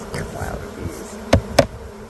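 Honey bees swarm as a cloud over an open hive suffering from laying workers, a steady close buzzing with two sharp bursts as insects pass right by.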